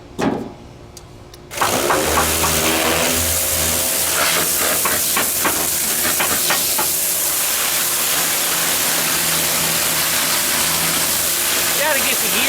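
A 1970 Pontiac GTO engine runs after a long sit, a steady broadband roar with hissing texture holding continuously after a brief quiet start.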